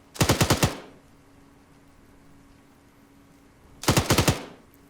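Two close, loud bursts of automatic gunfire in a Falklands War combat video game, each a quick rattle of about five rapid shots, separated by several seconds of low background hum.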